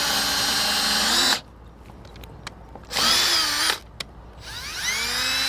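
A power drill whines loudly while drilling mounting holes for a jerry can holder, in two bursts separated by a quiet pause, then spins up again at the end.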